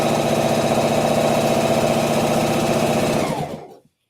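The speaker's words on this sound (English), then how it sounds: "I am gonna sew this nicely down" A sewing machine stitches fabric with a loud, fast, even mechanical whir and rhythmic clatter close by, running steadily before winding down and stopping, no voices.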